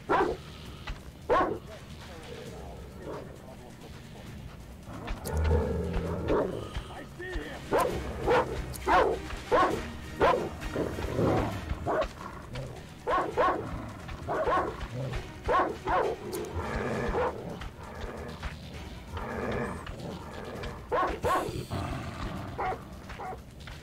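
Dogs bark repeatedly in the video game Metro Exodus, a run of loud yaps and yips with occasional whimpers, mixed with other game sounds and voices throughout.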